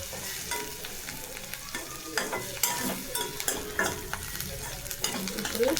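Ginger garlic paste sizzling in a hot pan while a spoon stirs it in repeated scraping strokes over a close, continuous frying hiss.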